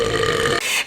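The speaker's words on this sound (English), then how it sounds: "I'll probably release a burp." A single sustained burp from a pregnant woman, loud and close, rumbling steadily for most of a second before cutting off, with no talking around it.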